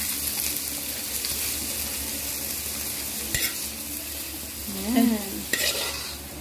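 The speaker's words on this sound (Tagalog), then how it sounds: "Next ingredients ang ating igisa." Vegetables for pancit canton are stir-fried in a pan, giving a steady loud sizzle with scraping stirs and a brief spoken word near the end.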